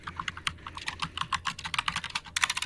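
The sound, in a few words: loud typing on a computer keyboard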